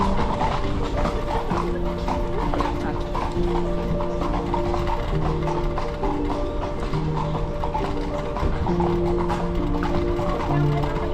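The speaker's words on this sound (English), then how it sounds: "We are in a carriage. We're going for a little ride around Salzburg." Horse hooves clip-clop steadily as a horse-drawn carriage rolls through Salzburg, a continuous near rhythm over busy street ambience and music-like tonal hum, with no talking.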